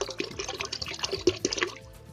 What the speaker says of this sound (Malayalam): അപ്പോൾ ഒരു 3 ലിറ്റർ വെള്ളം ഇതിൽ ഒഴിക്കണം.